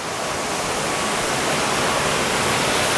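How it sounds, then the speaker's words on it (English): Clean treated wastewater pours over a weir into an after bay at a county water treatment plant, a steady, dense rushing roar like a small waterfall, loud and continuous with no voices. "this is the clean water, and it comes over this weir and down to an after bay"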